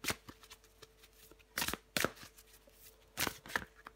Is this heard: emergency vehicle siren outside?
no